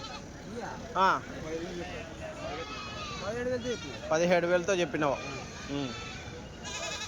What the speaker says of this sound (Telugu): ఒక నల్ల మేకలు అయితే ఉన్నాయండి